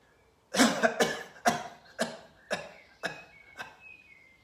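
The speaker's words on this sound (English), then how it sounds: "you breathe in deeply and you cough loudly for 3 to 4 times" Seven loud, deliberate coughs after deep breaths during a yoga breathing exercise, in a steady sequence, each sharp and close, spaced about half a second apart and gradually weakening.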